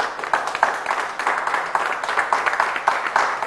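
A studio audience applauds a TV show guest with steady, dense clapping that fills the whole stretch at an even, moderately loud level, with no talk over it.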